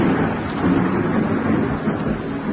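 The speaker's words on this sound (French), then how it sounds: "le reste de l'orage nous arrive dessus." Thunder rumbles on and on through heavy rain as a thunderstorm moves over an airport area. The sound is a steady, loud wash with no talk.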